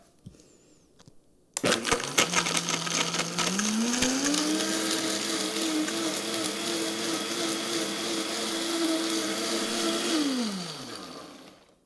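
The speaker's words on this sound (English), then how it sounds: "all I did was blend it until I didn't see any more date chunks in it" A blender starts abruptly and whirs loudly for about eight seconds while blending a vanilla protein shake with dates, its motor pitch rising as it speeds up, then winding down at the end.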